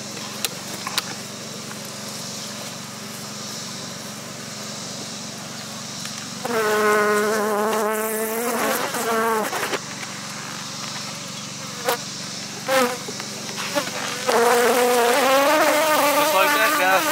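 Honey bees buzz around an open hive being fed pollen supplement outdoors. A faint background hum gives way to loud, close buzzing as individual bees circle near the microphone in bursts, with light wind noise.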